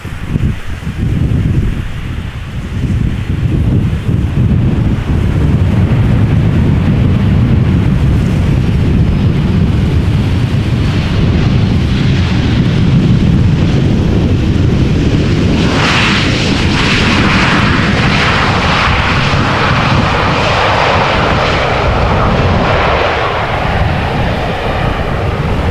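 An airliner, a 21-year-old jet, landing at Amsterdam Schiphol Airport, a loud continuous engine roar and rushing wind noise that swells and shifts as it passes close, with no voices.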